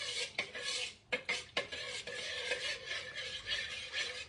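Yeast being stirred into water for pizza dough, a steady scraping and swishing rasp against the sides of a plastic container, continuous and close with a few brief pauses.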